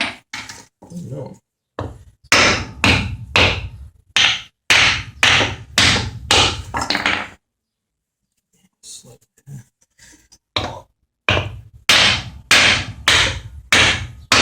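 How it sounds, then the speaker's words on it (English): Sharp hammer blows driving a control arm bushing into place on a 2002 BMW 325i, loud rapid strikes in bursts with a short pause midway, close up and without talking. "Just trying to hit the bushing"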